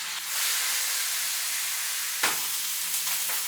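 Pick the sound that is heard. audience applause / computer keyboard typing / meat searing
meat searing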